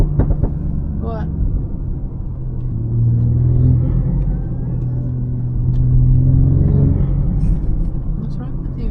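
A BMW X3 M40i engine and intake rev in two rising swells to a deep, loud, throaty roar, dropping back to a rumbling idle between them, with people talking over it.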